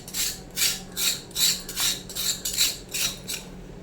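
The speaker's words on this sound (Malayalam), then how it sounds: "ചെറുതായിട്ട് തന്നെ കട്ട് ചെയ്യണം." A knife cuts drumsticks into small pieces for an Andhra-style pickle. The chopping is close and steady, with about eight crisp, rasping strokes at an even rhythm and no talking.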